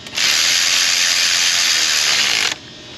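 Ratchet tightening bolts on a Toyota 2GR-FE 3.5L engine, one loud, close, continuous mechanical buzz lasting a couple of seconds before stopping.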